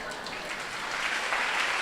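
An audience claps in a short, steady burst of applause during a church message, with no other sound over it.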